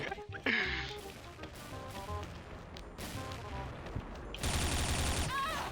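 X-Shot toy blaster firing, several sharp pops and mechanical clacks over scattered game-like electronic effects, with someone talking at times.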